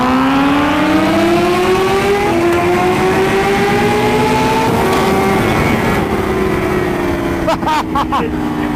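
A 2019 Kawasaki Ninja H2 and a Ducati Panigale V4 R accelerate hard on a Florida highway, engines screaming up through rising pitches with gear shifts, loud and close amid heavy wind roar, with brief voices.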